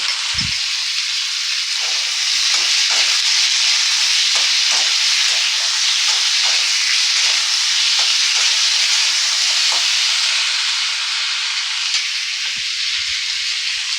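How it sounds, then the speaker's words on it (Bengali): Loud, continuous sizzling of potatoes with turmeric and salt frying in hot oil, a steady crackling hiss with occasional soft stirring knocks and no voices. "আলুতে একটু হলুদ দিয়ে আর একটু লবণ দিয়ে ভাজা করে নেব।"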